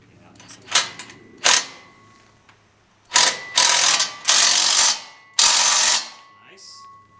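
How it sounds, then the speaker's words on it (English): A Bauer impact wrench works on a John Deere 348, firing several loud bursts of rattling hammering, a couple short and then longer runs separated by pauses, close to the mic. "That little Bauer impact's been pretty good."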